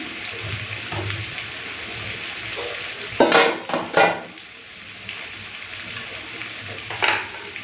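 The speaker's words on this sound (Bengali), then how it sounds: "তো আলু ভাজাটা হোক" Salted potatoes fry in a pan with a soft, continuous sizzle, interrupted by a few loud, sharp bursts of hissing and stirring in the middle and one near the end.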